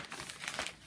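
Hand-dyed Aida cloth crinkles briefly and softly up close, in a quick run of crisp rustles with no voices.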